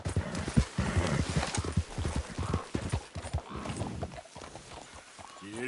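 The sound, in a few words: horse galloping in video game Red Dead Redemption II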